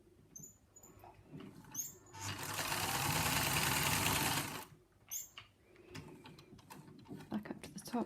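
A vintage Singer 222k sewing machine stitches fabric in one sustained whirring run of a couple of seconds, with short clicks and handling noises before and after.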